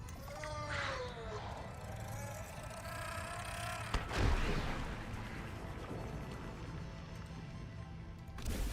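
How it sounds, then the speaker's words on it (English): A deep booming blast from a propulsion cannon around the middle, with a whooshing rumble trailing off, amid electronic game sounds and tonal effects in Subnautica: Below Zero. "Propulsion cannon."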